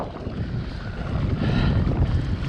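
Strong wind buffets the microphone on open water during a kayak fishing tournament on the California Delta, a loud, continuous rumbling roar that swells louder in the second half, with no talking.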